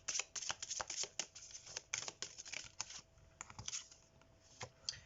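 Oracle cards being shuffled and drawn from a deck during a love guidance reading, giving quiet, close papery riffles and flicks in irregular bursts with brief pauses, no talking.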